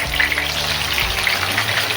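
Sliced mushrooms and bell pepper sizzle in oil in a pan for a dhaba-style mushroom masala, a steady close crackling fry with a brief stirring scrape partway through.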